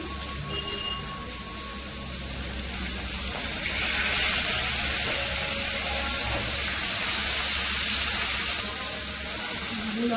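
Pieces fry in oil in a pan while cooking for a hilsa fish broth, giving a steady soft sizzling hiss that swells slightly midway and holds to the end.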